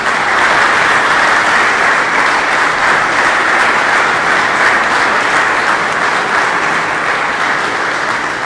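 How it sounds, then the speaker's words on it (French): Audience at an end-of-year spiritual conference evening applauding award winners for a synthesis exam as they come forward; steady, dense clapping fills the hall without letup. "Veuillez les applaudir pendant qu'ils s'amènent."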